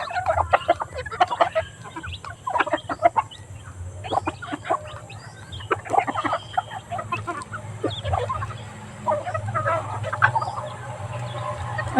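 Native chickens cluck and peep in a busy flock, dense overlapping calls near and far over a steady low background hum, with no talk.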